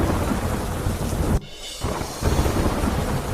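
Heavy rain pours steadily in Kutch, Gujarat, in a loud, dense wash, broken by a brief low rumble of thunder and a short lull before the downpour resumes.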